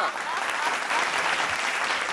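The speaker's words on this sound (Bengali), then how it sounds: "হাততালি জোরে একটা" A studio audience at a Bengali TV family game show claps loudly and steadily in dense, sustained applause that holds from start to finish.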